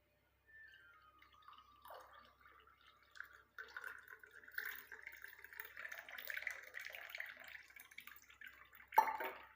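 Starchy water strained off cooked rice trickles and drips in a quiet kitchen, a thin stream running unevenly for several seconds before a brief louder splash at the end.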